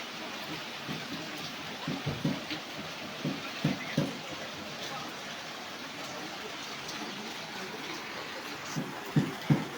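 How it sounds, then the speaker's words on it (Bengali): Downpour of heavy rain during a festival day, a steady broad hiss of falling water with scattered louder spatters and knocks, continuous throughout with no voices. "মুষলধারে বৃষ্টি হইতেছে"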